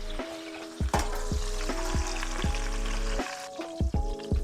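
Beef brisket sears hard in a hot pan on a backyard stove, a loud continuous sizzle broken by repeated clanks and tonal scrapes of a utensil against the pan, close by with no voices.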